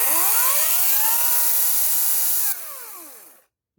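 Battery-powered electric chainsaw revs up loudly when its trigger is squeezed, a steady whine holding for a couple of seconds, dropping in pitch and winding down to silence as the trigger is released.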